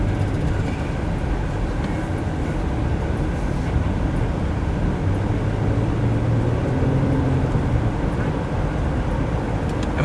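A 2015 Nissan Quest minivan accelerates from a green light on a test drive, its engine and road noise forming a continuous low rumble that swells gradually.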